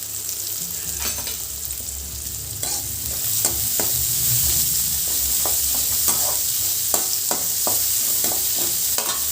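Small onions, sliced for a chicken pepper fry, sizzle loudly in a pan while a spoon stirs them in repeated scraping strokes, with no talk.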